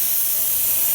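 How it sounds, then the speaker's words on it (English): Steam wand of a Quick Mill Anita espresso machine blasting a brief, steady, loud hiss of steam with no pauses. "Fire off some steam real quick."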